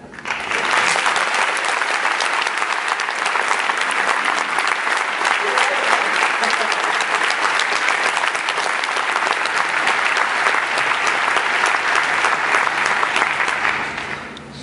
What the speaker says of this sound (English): give a round of applause to the people at NVIDIA that worked on this with us